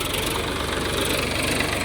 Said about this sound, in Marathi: हे आमचं ट्रॅक्टर आहे. 18 वर्ष झाली ट्रॅक्टरला घेऊन आणि चांगलंच चालतंय.